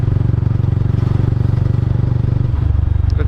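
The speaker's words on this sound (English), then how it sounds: "loud exhaust sound" Mahindra Mojo motorcycle idling loud and close, its exhaust throbbing in a steady rapid pulse with a slight dip in pitch near the end.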